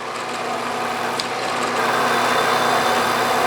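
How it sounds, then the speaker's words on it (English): A drill press bores into a cast iron vise part with a starter drill, a steady motor hum and cutting whir that swells slightly louder partway through, heard close with no talking. "Boy, that cast iron drills nicely."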